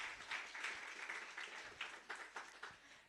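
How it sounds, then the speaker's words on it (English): Audience applause at a live moot competition on child labour and human trafficking, a dense patter of many hands clapping steadily for about three seconds, moderately loud and slightly distant, with no talk over it. "A round of applause, guys."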